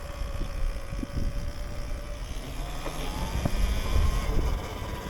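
A Surron electric dirt bike runs at full throttle in eco mode, a thin rising electric motor whine over rumbling wind and tyre noise, fairly close and steady.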